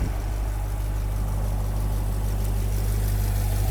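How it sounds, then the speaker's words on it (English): A 2021 Chevrolet Corvette C8 3LT mid-engine V8 runs steadily, its low rumbling drone constant and loud throughout, heard from inside the car with no speech. "When you drive in this car, you can hear more of the engine noise."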